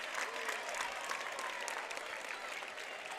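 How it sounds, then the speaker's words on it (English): A crowd at a Pendleton gym applauds and cheers during a close high school basketball game on middle school basketball night, producing dense, steady clapping that fills the hall for the whole stretch, with no voices standing out. "Pretty decent crowd tonight, Rob"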